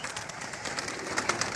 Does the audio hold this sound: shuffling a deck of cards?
no